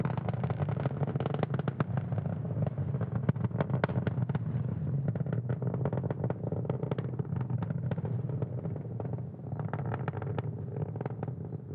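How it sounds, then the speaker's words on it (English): A Falcon 9 rocket's engines roar through ascent in the lower atmosphere, a dense crackling rumble that stays loud and steady throughout, with rapid popping bursts in the noise. "Falcon 9 accelerates through the thicker lower atmosphere"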